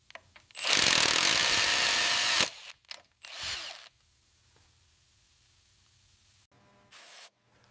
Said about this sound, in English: We'll have to drill the head right off